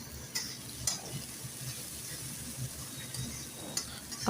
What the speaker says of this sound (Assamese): মছলাখিনি দি এনেকৈ ভাজি লৈছোঁ।